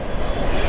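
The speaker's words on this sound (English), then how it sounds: "you can hear the subway is right behind me." A New York City subway train rumbles steadily close by, a loud, continuous low roar of rail noise with no break through the short stretch.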